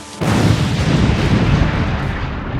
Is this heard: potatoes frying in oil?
no